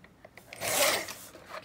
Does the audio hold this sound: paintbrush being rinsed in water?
no